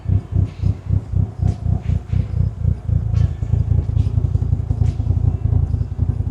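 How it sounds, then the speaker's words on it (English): A Mitsubishi Evo 9 wagon engine with a lumpy-sounding aftermarket exhaust is run through the gears while warming up, giving close, rhythmic surges of revving that settle into a steadier drone with some light clatter. "Just running it through the gears, get the fluid through the gearbox, get it warmed up."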